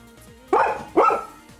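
A dog gives two sharp barks in quick succession, close and clear against a quiet indoor background with faint game music.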